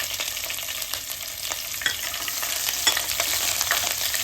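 Red chillies, mustard seeds and curry leaves frying in hot oil for a lemon pickle, giving a steady, loud sizzle with scattered crackles and pops throughout, no voices.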